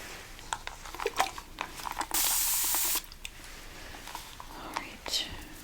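A hairspray can hisses in one steady burst of about a second aimed at the underside of lifted hair, set among soft close whispering and light handling sounds of a hair-styling session.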